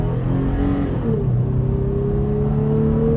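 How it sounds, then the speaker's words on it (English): A 2022 Toyota 4Runner 4x4's 4-liter V6 accelerating on a multi-lane highway, a steady droning exhaust note with engine harmonics rising in pitch, loud and continuous throughout with no talking. "I am liking the exhaust note with this 4-liter V6"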